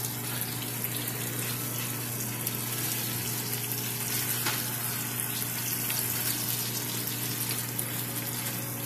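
Liver sizzles in a frying pan just after being flipped, a steady, even hiss with a low electrical hum beneath it and no voices.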